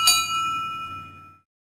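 A single bright metallic clang of a toy-train bell from Thomas the Tank Engine's Toby, ringing out alone and decaying over about a second and a half.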